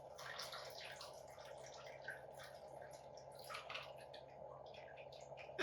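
Cherry vodka trickles from a bottle into a row of frosted martini glasses, a faint, close dripping and pouring sound over a quiet room.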